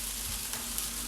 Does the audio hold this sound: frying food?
yes